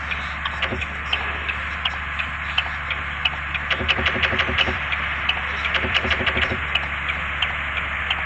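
A turn indicator ticks in quick, even clicks inside a vehicle, over a steady low engine hum.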